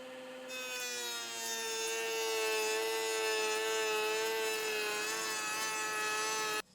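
A router fitted with a bird's mouth bit cuts into wood, a loud sustained high whine with a steady pitch that holds for several seconds before cutting off abruptly.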